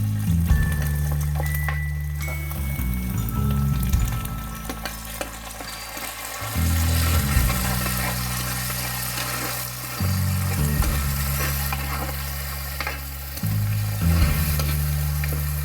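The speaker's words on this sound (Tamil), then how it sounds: "இப்போ பூண்டு வெங்காயம் தக்காளி நல்லா வதங்கிடுச்சு பாருங்கள்." Onion, garlic and tomato sauté in a pan for a country crab curry, giving a steady close sizzle and frying hiss throughout with no talking.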